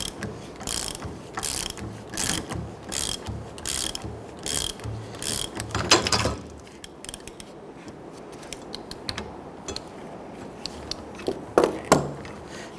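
Puller drawing the front wheel hub out of a steering knuckle clamped in a vise on a Honda Ridgeline, with rhythmic ratcheting clicks and creaks in bursts, then quieter scraping and a few sharp clicks.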